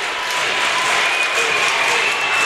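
A large crowd of basketball fans at a boys' playoff game cheers and applauds steadily, a dense, continuous roar of clapping and shouting throughout.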